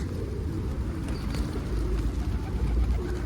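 A tumbler pigeon coos low and soft amid a flock of wild pigeons, the murmuring steady and close against a rumbling outdoor background.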